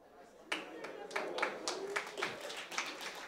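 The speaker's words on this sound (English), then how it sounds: "Well, that was a dire round of applause." A small, thin round of applause from a sparse esports event audience, scattered claps in uneven bursts, fairly faint and short-lived.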